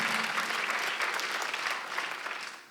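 A church congregation at a Sunday worship service claps together in sustained, dense applause that holds steady and then tapers off slightly at the end, with no voices over it.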